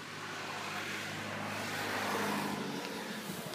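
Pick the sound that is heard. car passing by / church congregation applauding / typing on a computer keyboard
car passing by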